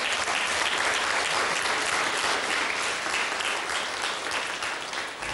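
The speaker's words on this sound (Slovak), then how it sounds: "Potlesk pre vás, super." Steady audience applause filling a room, dense clapping that holds evenly for several seconds before easing slightly at the end.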